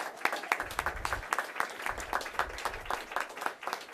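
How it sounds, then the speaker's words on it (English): Audience applause at a community celebration marking a health center's 50th anniversary, with steady clapping from a room of people, fairly distant and moderately quiet, holding an even rhythm throughout. "Can we give them a round of applause?"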